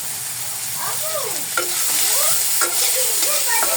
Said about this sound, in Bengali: একটু নাড়াচাড়া করে আমি এর ভিতরে এখন দিয়ে দেব বড়িগুলো